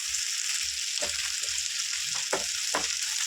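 Ginger paste frying with bitter gourd in a pan gives a steady bright sizzle, with soft scraping stirs and small pops, close and continuous with no talking.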